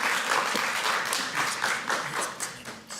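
An audience at a youth civic participation forum applauds a speaker, a dense steady wash of many hands clapping that tapers slightly toward the end.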